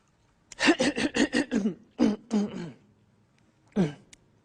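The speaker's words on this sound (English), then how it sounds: "I'm clearing my throat" A person clears their throat in a quick series of raspy, guttural bursts, then pauses and gives two or three more short throat-clearing rasps, close and fairly loud.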